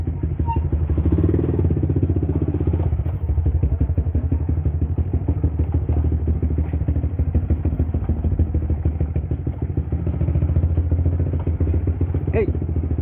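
A Yamaha Vixion motorcycle with a long-type exhaust runs steadily for the whole stretch, a continuous low engine rumble with some rattling and thumps, recorded up close.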